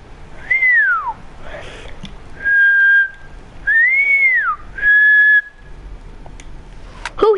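A person whistles four clear notes, alternating a rising-and-falling slide with a steady held tone, in two even pairs over quiet room background.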